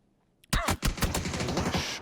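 Gunfire in a PUBG match: a quiet lull breaks into a loud, rapid burst of several close shots, then continued crackling fire and scraping noise.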